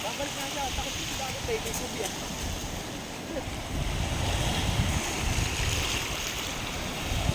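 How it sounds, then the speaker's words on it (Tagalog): Sea waves wash and rumble at a beach in General Nakar, Philippines, with gusts of wind buffeting the microphone, while a voice is briefly heard near the start. "Siyempre, ito yung dagat."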